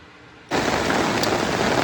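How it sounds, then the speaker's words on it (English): Light rain begins abruptly about half a second in, then settles into a steady, even hiss of falling drops that fills the rest of the moment with no voices. "It is raining just a little here."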